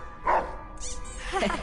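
A cartoonish dog in the LEGO Harry Potter video game on PS4 gives a couple of short barks and yips over steady game background music, moderately loud with a brief pause between calls.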